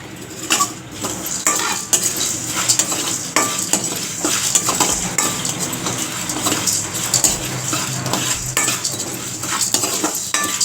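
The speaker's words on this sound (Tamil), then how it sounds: "நான் இப்போ இது எல்லாத்தையுமே சேர்த்து ஒன்றா போட்டு வறுக்கிறேன்" Spice ingredients, including sundakkai, dry roast together in a pan, with repeated close scrapes and clinks of a spoon stirring and a light rustle of the spices moving, and no one speaking.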